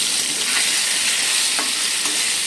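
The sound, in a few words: potatoes frying in a pan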